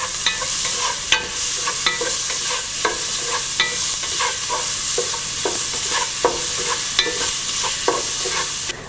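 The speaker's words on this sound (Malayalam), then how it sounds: "മീഡിയം ഫ്ലെയിമിൽ ഇതിലോട്ട് എടുത്തു വച്ചിരിക്കുന്ന സവോള, ഇഞ്ചി, വെളുത്തുള്ളി എന്നിവയെല്ലാം കൂടി ഇട്ട് നന്നായിട്ട് വഴറ്റുക" Onion, ginger and garlic sauté over medium flame in a pan for a Malayalam-style Gobi Manchurian, with a steady close sizzle and repeated sharp scrapes and clicks of a spoon stirring against the pan, no voices.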